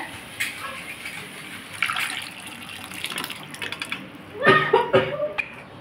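Boiled biulir dal (urad lentils) being poured into a pan, with soft wet splashing and gushing that builds and peaks near the end.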